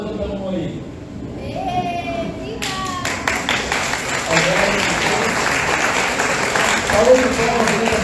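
A church congregation claps after a Saturday baptism service. The clapping swells from about three seconds in and continues steadily, with voices speaking over the start and under the applause.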